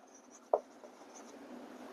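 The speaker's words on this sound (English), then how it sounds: "So let me write this." Writing by hand during a physics lecture: a single soft tap as the pen or chalk meets the surface, followed by faint, quiet scratching strokes in a hushed room.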